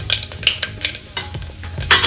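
Mustard seeds and cumin crackle and pop in hot oil while being tempered for a brinjal dish, with sharp, irregular spits and a faint metallic stir running close and alone.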